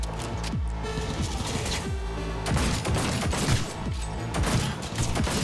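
Sustained automatic gunfire from Cyberpunk 2077 rattles in dense, loud, rapid bursts, with a slight pause in the middle, under a booming game backdrop.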